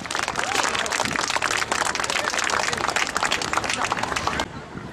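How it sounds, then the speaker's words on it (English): Audience applause at a military working dog demonstration, a dense, sustained round of clapping with crowd babble underneath that cuts off sharply near the end. "Oh, round of applause."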